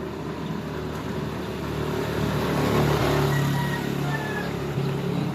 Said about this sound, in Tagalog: Pinadaan ng motor.